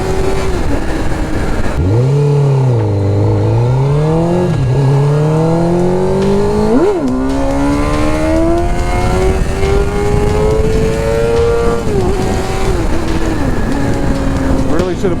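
A motorcycle engine revving unevenly in first gear, pitch sweeping up and down with jerky throttle changes then climbing steadily, loud and close over constant wind rush.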